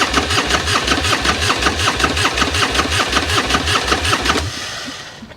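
A Plymouth Roadrunner engine cranks over repeatedly with a fast, even rhythmic churn from the starter, held close and loud, never catching, then trailing off as the cranking stops near the end.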